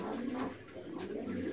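Domestic pigeons coo softly in a short, low, throaty call that rises and falls, with a few light wing or body rustles close by.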